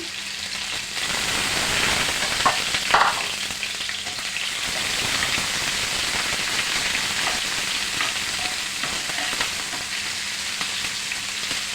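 Onion, garlic and ginger paste fries in hot oil in a fish curry pan, a continuous moderate sizzle with a couple of sharper crackles early on, no voices.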